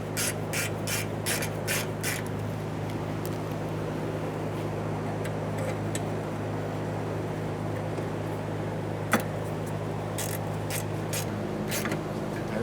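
A ratchet tightens 10mm mounting bolts under a 1994–1997 Honda Accord during a fuel tank filler neck replacement. Quick bursts of close, crisp clicking come in short runs over a low steady hum, with brief pauses between them.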